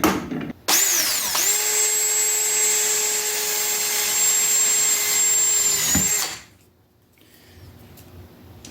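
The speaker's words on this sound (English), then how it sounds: "So to do that, we're just gonna start by drilling a hole." Power drill boring a hole into a plastic tube for a river tube motor build, a loud steady high whine for about five seconds with a brief start-up rise, then stopping to quieter handling noise.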